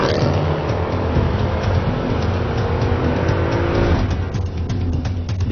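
A car roars at speed during a chase, its engine and tire noise a dense, continuous loud rush with little variation, throughout and without talking.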